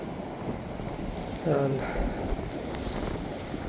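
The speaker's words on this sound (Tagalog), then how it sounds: "Medyo mahangin." Wind blowing outdoors in snowy Canada after a snowstorm, a steady rushing buffet against the microphone, with a short spoken word midway.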